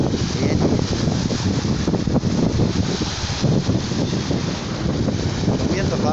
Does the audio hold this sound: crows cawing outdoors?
no